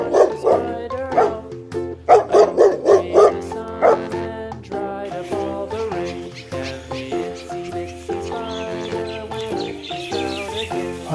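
A dog barks and yelps in a run of loud, close, clustered calls that shift into longer, whining tones, with no talking.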